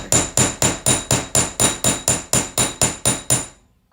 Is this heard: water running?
no